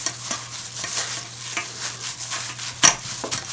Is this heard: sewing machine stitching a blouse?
no